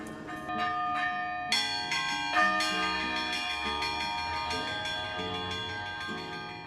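Bells ring from the tower of a colonial church, a series of clear, resonant strikes with long overlapping decays, fairly distant and alone.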